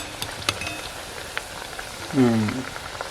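Dal vadas fry in hot oil over a wood-fired stove, giving a steady, close hiss and crackle with scattered pops, while a brief voice cuts in near the end.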